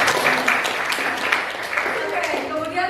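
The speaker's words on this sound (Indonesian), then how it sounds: "tepuk tangan" Classroom applause from students, a brief burst of clapping mixed with voices talking over it throughout.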